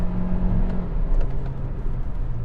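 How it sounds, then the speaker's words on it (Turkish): A Hyundai Kona N-Line engine hums and revs nearby, its low rumble rising and falling steadily with no voices. "Bu arada motor sesi muazzam."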